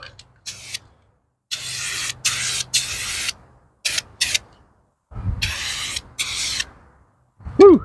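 Aerosol paint can sprays in repeated bursts while tail lights are refinished, sharp hissing blasts of varying length separated by silent gaps, with a brief vocal sound at the very end.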